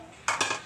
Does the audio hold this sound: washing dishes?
yes